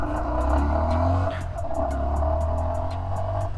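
Yamaha XSR125 motorcycle riding along, its small single engine droning steadily up close with a low pulsing hum and a brief dip in revs as it shifts into first gear before turning.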